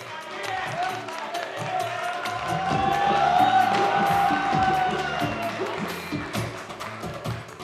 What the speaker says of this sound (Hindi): स्वागत कीजिए जोरदार तालियों से